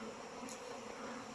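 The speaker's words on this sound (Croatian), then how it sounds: "masovno izlijeću iz košnica" Swarm of honeybees streaming out of their hives on a spring day after a hard cold winter, a soft continuous buzzing hum that holds steady throughout, faint and somewhat distant.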